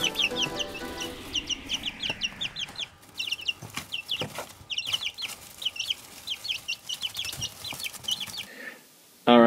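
Backyard chickens cluck and chatter nearby in a busy, overlapping series of short calls, with an occasional louder squawk, over a quiet outdoor background.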